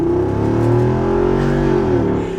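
A 2022 Jeep Wrangler Rubicon 392 Xtreme Recon with its 392 Hemi V8 revs at full throttle, a loud, close, deep engine roar that climbs steadily in pitch over a couple of seconds.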